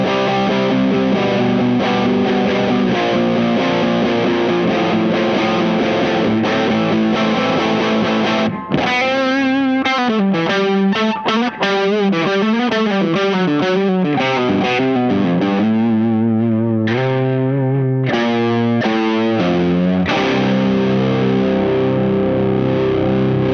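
Electric guitar with very microphonic pickups driven through a Dazatronyx TSX overdrive pedal on its fat setting, playing thick sustained chords and then busy fast note runs, loud and close with no talking.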